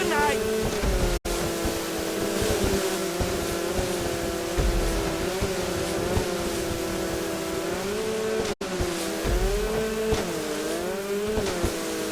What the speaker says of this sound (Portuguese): Motores, turbinas em ação.